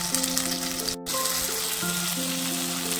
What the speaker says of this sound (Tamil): அடுத்தது வெங்காயம், அப்புறம் தக்காளி நல்லா ஒரு பரட்டி விட்டுங்க.